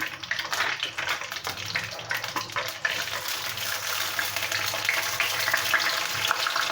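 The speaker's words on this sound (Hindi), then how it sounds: "प्याज हमारी फ्राई हो गई है।" Onions fry in hot oil in a pan, giving a steady sizzling crackle with a brief scrape of stirring partway through, and no one talks.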